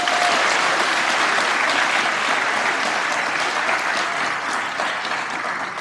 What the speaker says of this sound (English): Let's get another round of applause for that speech.